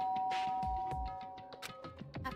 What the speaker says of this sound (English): not making a sound, and pressed the doorbell.